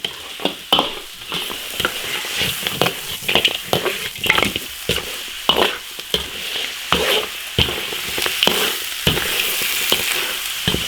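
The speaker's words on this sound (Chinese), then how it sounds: "把牛排骨炒香" Beef ribs stir-fry and sizzle loudly in a wok, a steady hiss of frying broken by frequent scraping strokes of the spatula against the metal, close and continuous with no talk.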